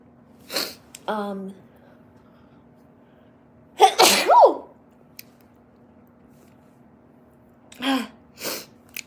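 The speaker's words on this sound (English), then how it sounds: "that was a sneeze" A single loud sneeze up close, preceded by a short sharp intake of breath, with a few quieter sniffs and breaths around it.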